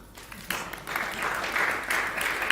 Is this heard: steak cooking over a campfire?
no